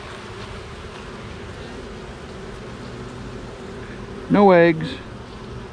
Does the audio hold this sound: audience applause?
no